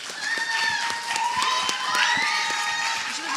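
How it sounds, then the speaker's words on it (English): School audience at a middle school Model UN closing ceremony claps and cheers for a grade 8 student performance, a lively mix of applause, whoops and scattered shouts that holds for several seconds. "so give them a round of applause"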